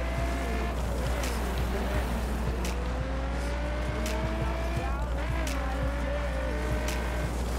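A car in the video game The Crew accelerates and boosts on a dirt track, its engine droning steadily with rising and falling pitch, joined by scattered clicks and tire noise. A persistent low hum runs under it.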